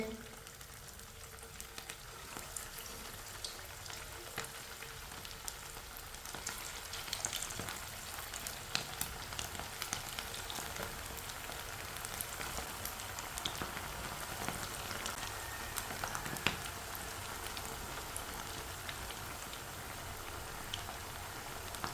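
Potato tikkis sizzle in hot oil in a pan, a soft, steady crackle of popping bubbles with scattered sharper spits, continuous and fairly quiet, no talking.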